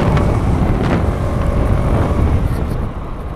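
A motorcycle riding along a road near Udhampur, a loud steady engine drone mixed with heavy wind buffeting on the microphone, continuing without a break and easing slightly at the end.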